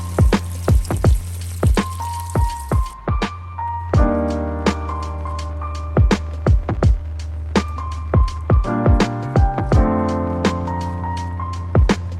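Steady sizzling with irregular sharp pops and crackles as bread fries in a hot pan, with a low constant hum underneath.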